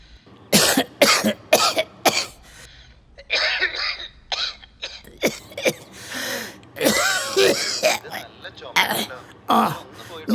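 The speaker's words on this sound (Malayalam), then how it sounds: "കുത്തിയുള്ള ചുമ വരും." An old father coughs harshly and repeatedly in a drama scene, with sharp, chesty bursts that come in uneven clusters. Some throat sounds and speech are mixed in.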